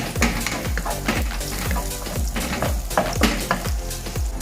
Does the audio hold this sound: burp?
no